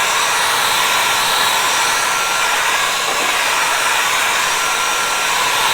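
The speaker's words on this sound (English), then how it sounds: "just to like speed this up, I'm gonna use my blow dryer." A blow dryer drying a watercolor painting runs continuously with a loud, steady rushing whoosh and no pauses or voices.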